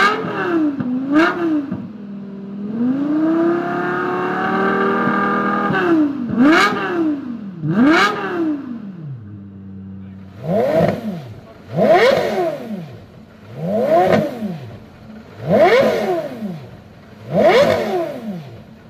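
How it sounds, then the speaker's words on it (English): A V10 road sports car engine, Lexus LFA or Porsche Carrera GT, revs hard and loud: several quick rising and falling blips, a sustained high wail, then a regular series of sharp rev bursts, close and alone. "we're pitting the best sounding V10 road car ever. We came up with the Lexus LFA versus the Porsche Carrera GT."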